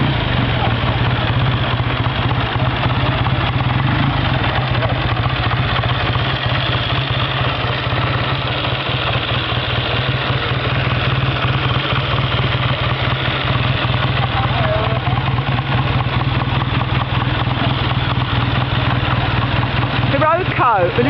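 A 1948 Triumph Speed Twin 500cc motorcycle engine idles steadily after a kick start at a classic bike event, a constant close, loud throb with people talking over it.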